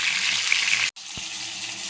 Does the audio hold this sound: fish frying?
yes